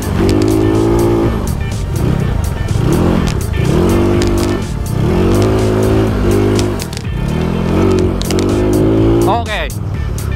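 A motorbike revving hard on sand, loud and close, the engine rising and falling in repeated bursts of throttle, with people talking and shouting over it.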